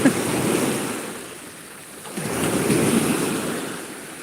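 Sea waves break on the shore in two broad surges, a loud close wash that swells, fades briefly and rises again, with wind over the microphone and no voices.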